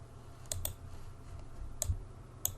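Computer mouse clicks, four quick sharp taps in a small cluster and then two spaced clicks, close and crisp over a low room hum.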